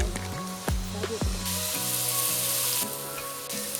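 Three large onions frying in hot oil for a biryani cooked outdoors in Sri Lanka, a close steady sizzle with a few sharp clanks and scrapes from a utensil against the pot, and no talking.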